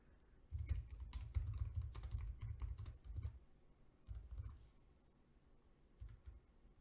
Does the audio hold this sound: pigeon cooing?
no